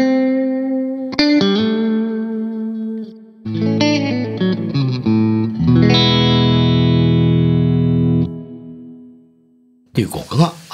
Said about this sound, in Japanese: リバーブが、プリディレイを加えることで、ギターのアタックの部分は初め出てくれるので、こう原音がリバーブに飲み込まれすぎない